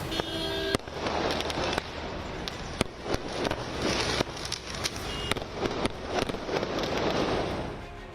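Diwali firecrackers in Delhi burst again and again, sharp bangs and crackling pops at irregular intervals over a hissing, smoky din, some close and loud.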